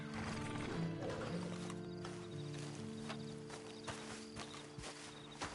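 A horse walks with steady, distinct hoof clip-clops that carry through the whole stretch, joined by a brief whinny and a low, sustained tonal hum running beneath.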